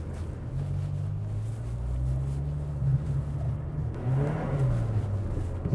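An old Saab 900 turbo engine rumbles and climbs in revs as the car accelerates on a snowy road, a steady close drone with a surge near the end.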